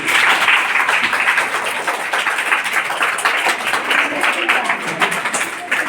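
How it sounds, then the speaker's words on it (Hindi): Applause for quiz participants at a Children's Day quiz competition in an Urdu middle school, steady broadband clapping from a group lasting throughout, with faint voices underneath. "इन सब के लिए एक जोरदार तालियां"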